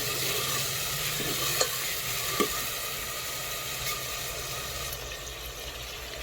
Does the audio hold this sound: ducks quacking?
no